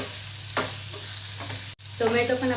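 Tomatoes frying with onion and fresh coconut in a pan over low flame for chole bhaji, a close, steady sizzle with a spatula stirring through it and a brief clatter near the end.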